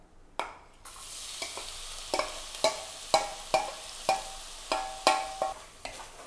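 Crushed green chilli, ginger and garlic sizzle in coconut oil while a spoon scrapes and stirs the pan in regular sharp strokes, each knock ringing over a low, steady frying hiss.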